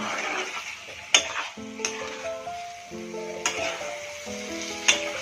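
Mutton liver for a kosha being stirred and fried over a high flame: a spatula scrapes and knocks against the pan in irregular strokes over a continuous sizzle, close and fairly loud, with no voices.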